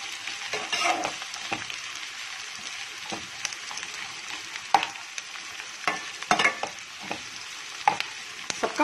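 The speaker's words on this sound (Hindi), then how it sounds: "इसको चला लेते हैं, कैप्सिकम चला ली।" Capsicum and mixed vegetables for poha sizzle steadily in a hot pan while a spoon stirs and scrapes them, producing irregular clinks and scrapes over the continuous frying hiss.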